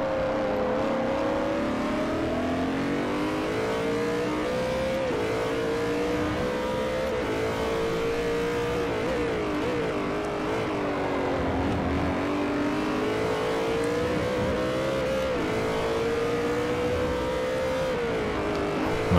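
Race car engines in the Forza Motorsport 4 video game drone continuously at high revs, rising and dipping with gear changes and throttle, loud and steady with no talk.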